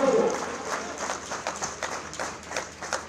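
An audience at a PAC foundation day ceremony in Lucknow breaks into a rolling round of clapping, fairly faint and uneven, rising and dipping over a few seconds.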